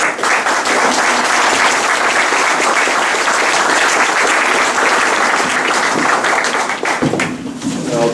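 An audience at a League of Women Voters candidates forum in the San Juan Islands claps loudly and steadily for about eight seconds, a dense sustained roar of hands that thins out near the end.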